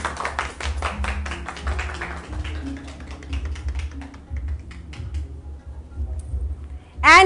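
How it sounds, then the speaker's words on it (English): An audience at a saree fashion show in Kolkata claps, with a burst of fast hand claps that gradually thins out and fades. "Can we hear a round of applause?"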